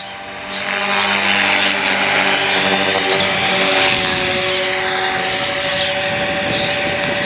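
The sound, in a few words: 450 Pro RC helicopter flying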